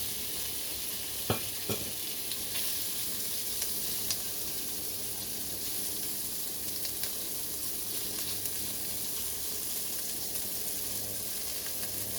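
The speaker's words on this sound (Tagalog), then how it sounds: "Hindi ko siya hinahalo kaagad para maprito yung kabila." Shrimp and egg fry in a pan with a steady, dense sizzle that runs the whole time, broken by a couple of faint clicks near the start.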